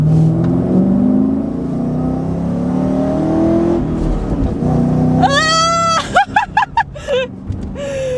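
A big V8 car engine idles roughly, then revs up hard in several sharp bursts, loud and close, with its pitch climbing and falling between blips.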